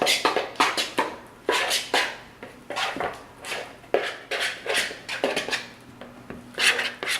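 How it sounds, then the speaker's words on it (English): A spoon scrapes and clinks rhythmically around a bowl while mixing ingredients for a rocky road dessert, a close run of repeated scraping strokes and knocks with no talking. "Okay, so you can start mixing that up."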